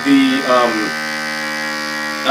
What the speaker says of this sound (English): That's a little motor coming on and sucking the excess oxygen out of